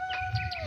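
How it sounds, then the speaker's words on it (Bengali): Birds call from the trees of Bishnupur Lalgarh Park, a few quick chirps repeating over a steady outdoor background, moderately close and not loud. "পাখি ভেতরে ডাকছে।"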